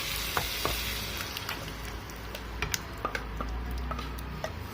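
Spices sizzling in hot oil before dal is added for daal bukhara, a steady crackling hiss dotted with small sharp pops and ticks throughout.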